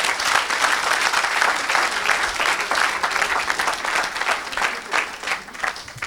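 Church congregation applauding and cheering for Jesus Christ, a loud, continuous wash of many hands clapping, with crowd voices mixed in and no pause.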